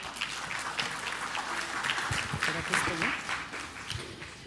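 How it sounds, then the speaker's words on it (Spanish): An audience at a panel on gender and Mexican democracy applauds to welcome a panelist, a moderate wash of clapping with some voices murmuring underneath. "Un aplauso, por favor, y bienvenida."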